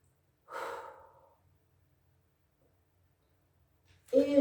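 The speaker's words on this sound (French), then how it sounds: "Je respire." Person breathing during a Pilates leg pull front stretch: one soft, airy exhale near the start, then quiet, followed by a louder breath or sigh at the very end.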